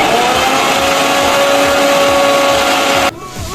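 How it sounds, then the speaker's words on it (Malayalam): A kitchen mixer grinder whirs loudly and steadily as it blends vinegar and oil into mayonnaise, a close motor drone with a high whine that drops sharply near the end as it shuts off. "നമുക്ക് അതൊന്ന് മിക്സിയിലിട്ട് അടിച്ചെടുക്കാം"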